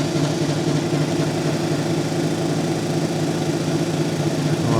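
A lapidary grinding machine running as mica is ground off a free-form stone cabochon, giving a loud, steady motor hum with a rough buzzing texture and no pauses or voices.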